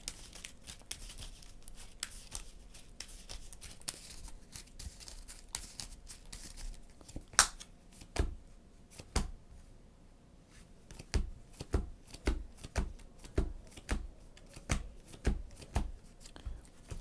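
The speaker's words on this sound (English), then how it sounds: "So shuffle the encounter discard pile into the encounter deck." Playing cards from a Marvel Champions card game deck are shuffled close up, first a soft continuous riffling, then a run of crisp, evenly spaced riffle shuffles, no speech.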